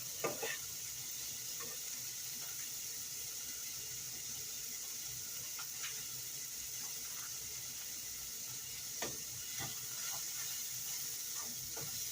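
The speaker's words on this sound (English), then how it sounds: "I'm going to brown them up into chorizo crumbles" Chorizo browns into crumbles in a pan for an egg sandwich brunch, giving a steady, even frying hiss throughout with a few faint scattered clicks and pops, and no voices.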